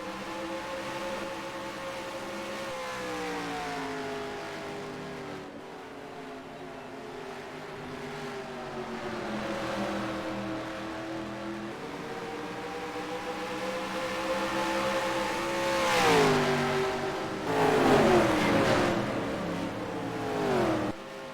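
Stock car engines in the racing game NASCAR Racing 2003 at Rockingham Speedway hold a steady high-pitched drone, rising and falling with gear shifts and passing cars, loud and continuous with no talk.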